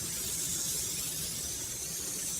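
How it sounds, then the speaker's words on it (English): Steady, close hiss of Soft99 Rain Drop Bazooka spray sealant misted onto a car, continuous without pauses. "And now let's take the Raindrop Bazooka and spray a little bit on."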